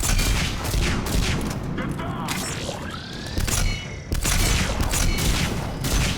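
Chakram Launcher fire in the Mass Effect 3 shooter amid dense combat, a steady barrage of loud bursts, mechanical clanks and booms layered over one another with a brief swoosh, nearly continuous throughout.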